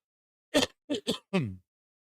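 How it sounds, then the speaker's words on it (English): Four short, harsh bursts close to the mic: a quick cough, then a pair of rapid coughs, ending with a longer, voiced hacking cough, followed by silence. "there's going to be some of that coughing and hacking again."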